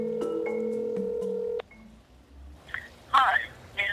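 A telephone being dialed to place a call: steady electronic dialing tones sound clearly for about a second and a half, then stop abruptly and give way to a voice speaking.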